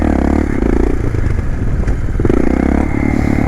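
A motorcycle engine runs loud and close after the clutch is let out at the end of a coaster wheelie. Its mid-pitched drone pulses steadily and briefly dips in the middle, with some clatter.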